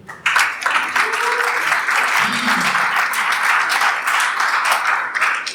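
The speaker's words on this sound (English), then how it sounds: "Let's clap it up for my man, Real BTV." A room full of people at a startup pitch night applauding, loud dense clapping that rises quickly and holds steady throughout.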